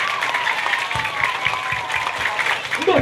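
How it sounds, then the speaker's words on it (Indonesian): A crowd gives sustained, loud clapping for the SDN Kampung Sawah 1 primary school at a Maulid Nabi celebration. The applause is dense and continuous from start to finish. "Tepuk tangan buat SDN Kampung Sawah 1."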